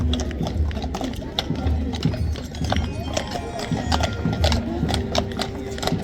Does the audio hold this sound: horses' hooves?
yes